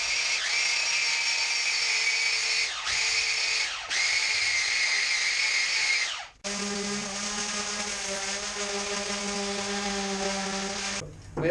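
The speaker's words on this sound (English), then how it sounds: "but I'll show you a little bit of the sanding." Power sander working a wooden coat rack, a loud steady whine that stops briefly twice, then resumes with a lower, heavier droning tone until near the end.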